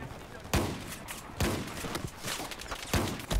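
Pump-action SPAS-12 shotgun blasts in Battlefield 4 multiplayer, four loud booming shots spaced roughly a second apart over background game noise, with no talk.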